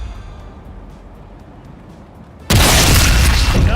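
A sniper rifle fires in the video game Sniper Elite Resistance: after low, quiet ambience, one sudden loud booming shot bursts out and rings on heavily to the end.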